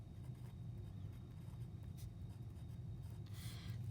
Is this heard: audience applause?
no